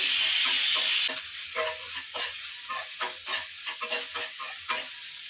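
Cashews and green chillies frying in hot oil for a country-chicken biryani: a bright hissing sizzle at first, then rhythmic spatula scrapes and stirring knocks over a softer crackle, close-up and with no voices.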